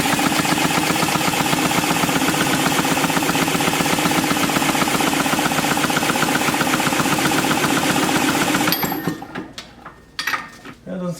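A 1958 Tecumseh lawn mower engine from a barn find, choke closed, cranks and sputters loudly in a dense, continuous rattling run before cutting out abruptly into quieter clatter and handling noises.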